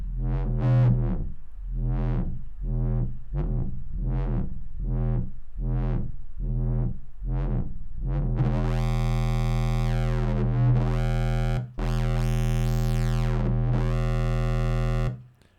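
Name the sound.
Sylenth1 synth pulse oscillator hardhouse bass with distortion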